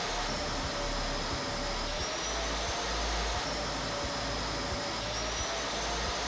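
Oneida Supercell dust collector runs with a loud, constant whooshing roar while its pulse bar filter cleaning is worked, with faint thumps and a thin whine under the steady airflow.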